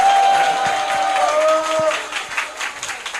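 A crowd at a political party youth committee launch event breaks into applause that carries on steadily, with scattered claps and a few tones ringing out at the start.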